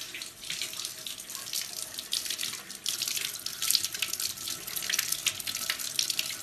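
Tap water runs steadily into a kitchen sink as tomatoes are rinsed under it, a close, continuous splashing stream with small fluctuations and no talk over it.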